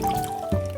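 Water trickles and drips as blanched spinach is squeezed by hand after a plunge in cold water, a short soft liquid sound close up with a small splash midway under light background music.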